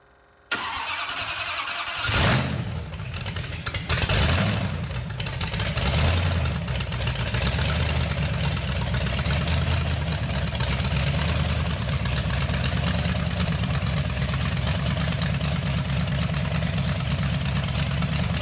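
A blown Hemi front-engine dragster cranks and fires up after a brief quiet start, then settles into a loud, lumpy, steady idle that rumbles on without a break.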